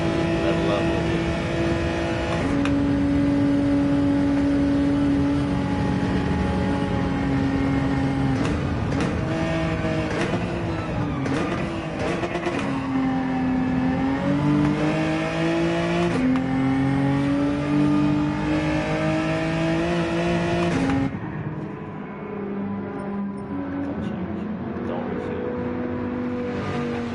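Race car engines in Gran Turismo 7 at the Nurburgring, a sustained loud whine rising and falling through gear changes for most of the stretch, then dropping to a quieter steady drone near the end.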